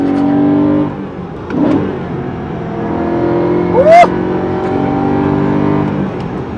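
A BMW M3 engine revs hard and accelerates, the pitch climbing steeply as it drops a gear, loud and close, with a brief sharp rise near the end.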